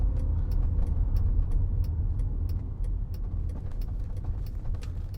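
A BMW car drives close past a 2006 Mercedes-Benz SLK280 with a 7G-Tronic gearbox, giving a broad, low road and engine rumble that stays fairly loud throughout, with small ticking sounds on top and no speech.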